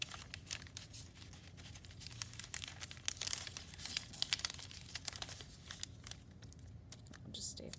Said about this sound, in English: now I'm going to undo those little tapes